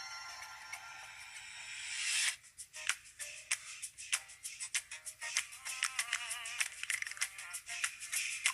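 Tinny music from a Ticwatch E smartwatch speaker, starting as a hissy smear then turning into choppy, skipping, stuttering beats and notes, moderately loud and close.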